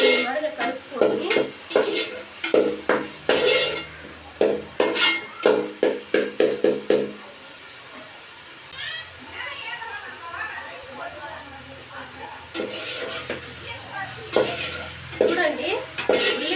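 Onions frying in a pan and being stirred, with quick rhythmic spatula scrapes over a sizzle, then a quieter stretch of steady frying, and a voice talking over parts of it.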